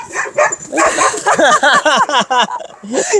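A dog gives a rapid string of loud, close yips and barks, repeating with short pauses between them for several seconds.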